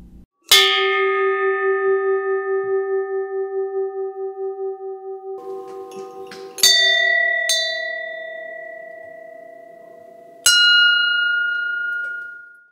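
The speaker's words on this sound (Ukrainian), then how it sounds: "вдарити у дзвони перемоги зможе кожен охочий" Large metal bells, the bells of victory at a Prykarpattia blacksmith's forge event, are struck three times with long ringing decays, each clang loud and close and fading slowly before the next strike.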